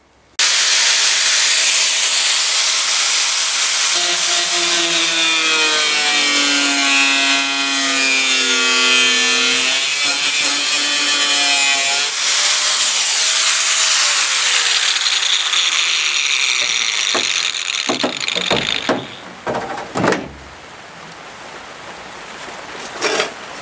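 A power cutter grinds and saws through the old wheel arch of a Porsche 911 RS replica body, loud and continuous with a wavering pitch, ending in a few short bursts and clanks as the tool stops.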